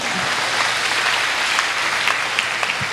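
Audience applause at a Hindi poetry recital (kavi sammelan), steady dense clapping filling the whole stretch with no speech over it.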